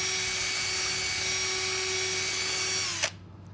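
A turquoise stone being ground on a spinning grit wheel while it is shaped into a cabochon, a steady, close whining motor drone with a faint grinding texture that stops abruptly near the end, with no talking.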